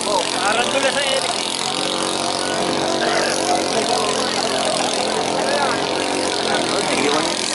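A racing boat engine runs steadily at a bangkarera boat race festival in Calamba, Laguna, a continuous broad roar under constant crowd noise and an announcer's talk throughout.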